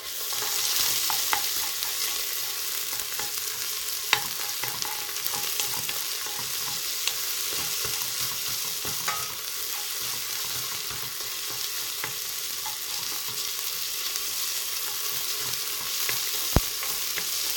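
Garlic and onion fry in a pan with a steady sizzle while a utensil stirs them, giving scattered scraping clicks and taps close to the microphone; no one speaks over it.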